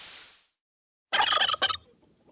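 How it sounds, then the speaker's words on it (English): A turkey gobbles in a rapid rattling burst, a short second gobble right after, close and clear with nothing else over it, following a fading hiss at the start. "Turkey,"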